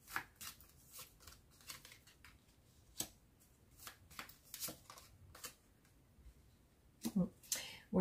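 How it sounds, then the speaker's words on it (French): Oracle cards being shuffled for a card reading: a run of quick, dry riffling and flicking bursts, close and soft, with a voice speaking briefly near the end. "je vais faire juste un petit tirage avec cet oracle"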